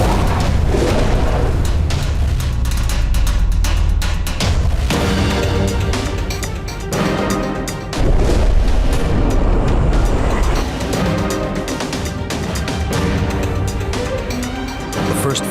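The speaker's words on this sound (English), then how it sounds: "They release 2 torpedoes." A WWII submarine fires two torpedoes at a destroyer amid loud, dense rumbling with deep booms and surging water-like noise, continuous and heavy throughout.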